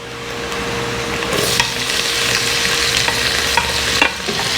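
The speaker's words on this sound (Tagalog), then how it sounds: "I'm now going to put the mushroom." Mushrooms added to a hot pan for carbonara sizzle loudly and steadily while being stirred, with a few scraping clacks of the utensil against the pan.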